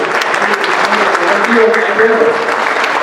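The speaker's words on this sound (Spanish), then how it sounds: "A ver, por favor, un aplauso" An audience at a centennial talk on the composer Álvaro Carrillo breaks into loud, sustained applause, with voices and murmuring under the dense clapping.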